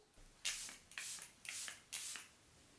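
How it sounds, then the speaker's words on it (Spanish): Charlotte Tilbury makeup setting spray misted over a face in four evenly spaced short hissing bursts, close and clear with no talking. "Voy a fijar todo el maquillaje con una bruma, con un spray fijador."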